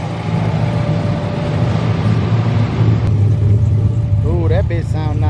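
Custom cars at a street car meet, including a '57 and a Camaro, with a loud engine rumble and revving close by under steady crowd noise and voices talking over it.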